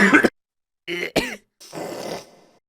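A man with a sore throat gives a few harsh coughs and a throat clearing, several short bursts separated by silence, close and fairly loud.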